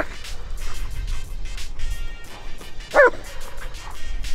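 German Shepherd dogs yip and bark in short, scattered bursts, fairly close, with one sharper high yelp standing out midway.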